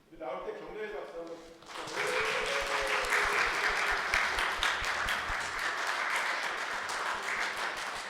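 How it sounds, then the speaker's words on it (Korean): A Sunday church congregation breaks into applause for members called forward, the clapping rising sharply after a few seconds of someone speaking and then holding as a steady, full wash of hands. "나올 때 격려해 박수."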